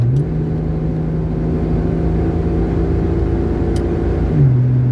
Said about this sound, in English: I had to downshift there for a second. It gets kind of loud when I do that.